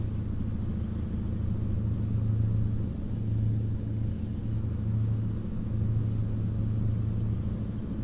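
A Mack Ultraliner cab-over truck in American Truck Simulator drones along with a deep, steady engine rumble and a low pulsing hum, unbroken and close, with no talking.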